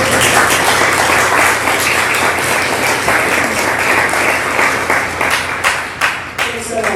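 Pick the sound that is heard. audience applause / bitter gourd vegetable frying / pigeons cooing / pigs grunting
audience applause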